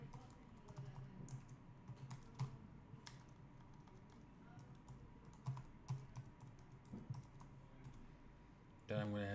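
A computer keyboard clatters with quick, irregular bursts of keystrokes as a username and email are typed, close and fairly quiet, with soft background noise.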